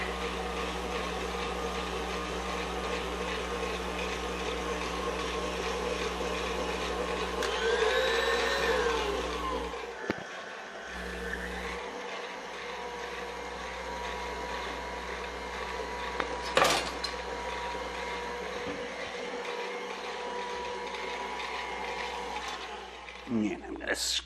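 An electric mixer whips butter for a Guinness chocolate cake, a steady close whirring drone that rises in pitch and intensity when the speed goes up, then drops with brief interruptions and scraping.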